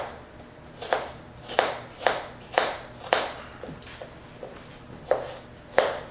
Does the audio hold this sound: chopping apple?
yes